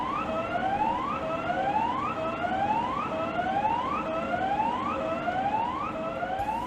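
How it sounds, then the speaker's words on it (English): A mill-wide hazard alert alarm siren wails, rising and falling in steady repeating sweeps, loud and continuous throughout, with no voices. "There is a mill-wide hazard alert alarm test every Monday at 10 a.m."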